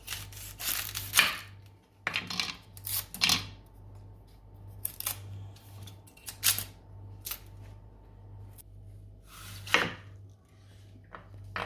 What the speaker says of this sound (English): Just cut it in thin slices like that.